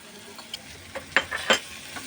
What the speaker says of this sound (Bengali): আমি একটু মশলাটা কষিয়ে নিব